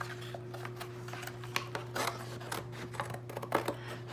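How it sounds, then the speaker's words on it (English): Scissors snipping through cardboard close up, a series of crisp cuts and rasping scrapes over a low steady hum. "And then I need my scissors."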